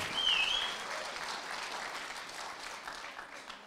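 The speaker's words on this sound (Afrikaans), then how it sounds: "Kom aan, klap vir die Here, gee hom al die eer." A church congregation claps for the Lord during a praise service, a dense, steady wash of many hands that starts loud and continues evenly throughout, with no voices standing out.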